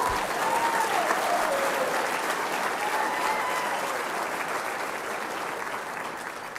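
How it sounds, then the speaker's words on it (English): Audience at a college men's basketball banquet breaks into sustained, loud applause with a few faint voices and whistles mixed in, tapering only slightly toward the end. "You can clap about that."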